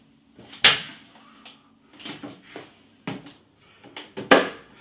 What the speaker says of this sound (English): Open the doors on your